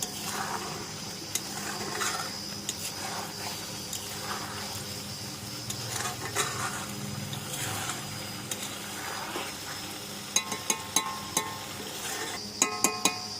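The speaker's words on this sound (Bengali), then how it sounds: "কাঁচা তেল দিয়ে আর একটু নেড়ে চেড়ে নেব আমি।" Tilapia and mango curry being stirred in a pan after a splash of raw oil, with a steady soft scraping and light sizzle, a few sharp utensil clinks near the end, and no talking.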